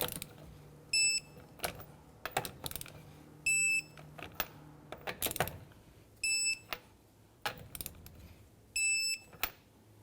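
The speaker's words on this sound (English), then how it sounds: "Let's go ahead and torque down our lug nuts to 75 foot-pounds." A torque wrench tightens lug nuts on a 2011-2015 Kia Sorento's rear wheels. Sharp ratchet clicks alternate with repeated short electronic beeps in a loose rhythm, close up and with no talking.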